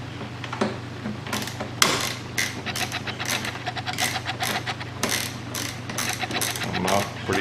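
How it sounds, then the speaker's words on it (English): A 3/8 inch ratchet with an extension loosening Allen bolts on a 2011 Kawasaki Concours motorcycle, giving rapid, close clicking pawl bursts in several runs over a steady low hum. "I'm using it with a 3/8 inch ratchet and extension."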